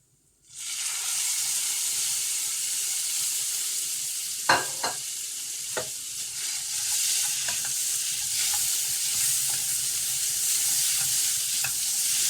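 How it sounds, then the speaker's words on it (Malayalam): Tomato is stirred into a sizzling spice masala for crab curry, giving a strong steady hiss close by, with a few sharp spoon taps and scrapes scattered through. "തക്കാളി ചേർത്തൊന്ന് ഇളക്കി ഒന്ന് സെറ്റാക്കിയിട്ട്"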